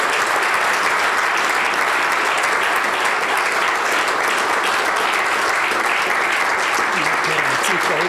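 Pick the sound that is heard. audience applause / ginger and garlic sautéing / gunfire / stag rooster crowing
audience applause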